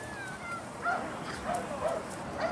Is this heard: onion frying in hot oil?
no